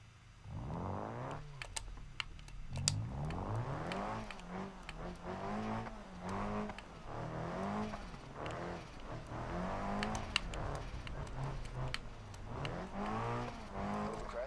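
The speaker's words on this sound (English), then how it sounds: "Car sounds good, though." Virtual car engine in the BeamNG driving game revving repeatedly, rising and falling pitch sweeps at a steady close level with no voices.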